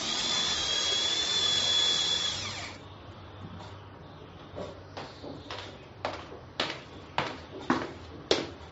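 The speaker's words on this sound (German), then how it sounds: "Moment, ich muss gerade noch ein Loch bohren." An electric drill whines loudly and steadily for a few seconds while boring a hole in a dining room, then stops, followed by a series of sharp, evenly spaced knocks that grow louder.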